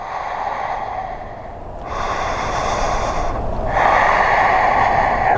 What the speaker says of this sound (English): Continue for 3 more breaths. Ujjayi breaths.